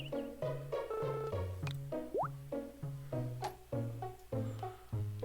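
Watering a crop in Harvest Moon Sunshine Islands gives a run of bright, bubbly plops and drips, repeated in a quick, even rhythm and set against a light game melody.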